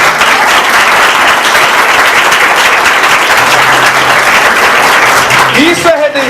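Church congregation applauds loudly during a sermon, a dense, continuous wall of clapping that stays intense from start to finish, with a voice briefly rising at the end.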